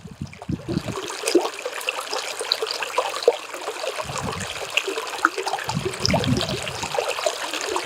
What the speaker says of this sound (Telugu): జలపాతంలో వచ్చేటువంటి సౌండ్ ఏదైతే ఉంటుందో